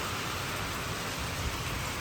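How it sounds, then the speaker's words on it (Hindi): Heavy rain pours down steadily, a constant, even hiss of drops drumming on surfaces that fills the whole moment with no voices. "बारिश हो रही है काफ़ी ज़्यादा।"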